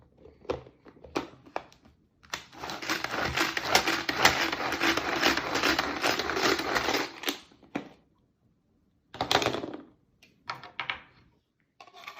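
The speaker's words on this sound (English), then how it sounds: "For the spinach, I will be using my mom's Tupperware dicing machine." Spinach being chopped in a Tupperware dicing machine, a dense burst of rapid clattering chops lasting about five seconds, followed by a few shorter bursts and isolated knocks, close and fairly loud with no talk.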